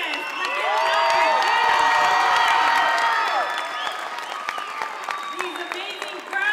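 A movie premiere audience for Go For It breaks into loud, dense applause with cheers and whoops, sustained for a few seconds before thinning into scattered claps and shouts, with voices calling out among the crowd.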